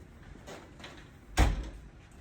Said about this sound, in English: Should I shut the door?